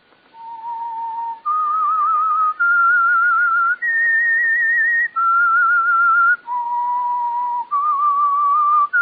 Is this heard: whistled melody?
yes